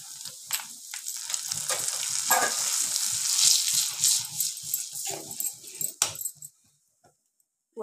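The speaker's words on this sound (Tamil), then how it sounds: "கருவேப்பிலை நல்லா பொரியட்டும்" Curry leaves and a ground spice paste fry in a hot pan, a steady close sizzle with crackling spits and the scrape and clatter of stirring, then the hiss cuts out to silence near the end.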